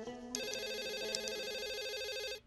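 A telephone rings indoors with a steady, bright electronic trill that starts abruptly and continues for a couple of seconds before cutting off, with no talking.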